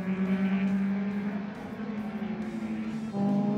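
Historic race cars roar around a motor racing circuit, one engine note holding steady and loud throughout with a second car's tone joining near the end, a continuous close-by drone with a commentator talking over it.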